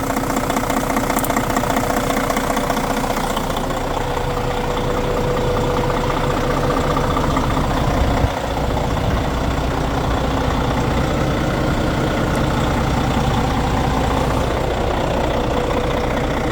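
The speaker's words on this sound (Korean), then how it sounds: "아주 엔진 소리가 짱짱 아주 아주 힘이 넘치는 것 같아요." A large diesel bus engine with an intercooler and retarder, in a Daewoo Grand Bird Silk Road coach, runs steadily, a loud low rumbling drone with a rough knocking texture, close up and unbroken from start to finish.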